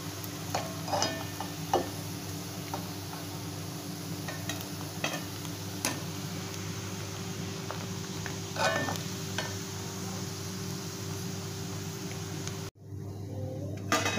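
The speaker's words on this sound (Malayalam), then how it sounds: "ഡീപ്പ് ഫ്രൈ ആവുന്നുണ്ട്" Fish pieces for homemade fish pickle deep frying in hot oil give a steady, close sizzle with occasional stirring clicks and scrapes, briefly cut off near the end.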